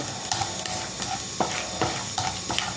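Mustard seeds pop in hot oil in a pan, with scattered sharp crackles and ticks over a soft continuous sizzle, close by and fairly quiet.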